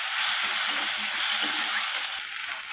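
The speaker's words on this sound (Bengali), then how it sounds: "আবারও মশলার সাথে রসুন আর আদা বাটাটাকে ভালোভাবে কষিয়ে নেব।" Garlic and ginger paste frying with spices in a pan gives a steady, loud sizzle with light stirring throughout, and no one speaks.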